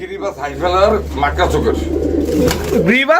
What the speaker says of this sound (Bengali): আমরা এখানে কি কবুতর দেখতে পাচ্ছি